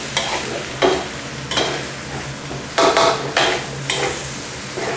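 Rice stir-fried over high heat in a wok with sweet dark soy sauce, a steady close sizzle broken by four or five rhythmic scraping tosses of the spatula against the pan.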